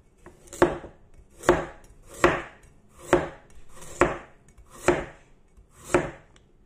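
Seven evenly spaced, crisp knife chops slice through carrots on a cutting board, each stroke landing with a sharp close thud and then a short pause before the next.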